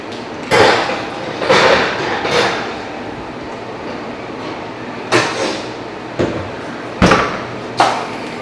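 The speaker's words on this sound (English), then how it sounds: "now I'm gonna pop my cake in the oven" An oven door opening and shutting as a rum cake made from cake mix goes in to bake, several sharp clunks and rattles spaced across a quiet kitchen.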